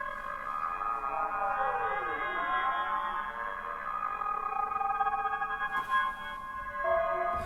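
A Yamaha Montage 'outer planet' sound effect preset played solo: a dense, shimmering synth texture of layered tones that sweep and bend against each other, steady and moderately loud, with a brief metallic swell near the end.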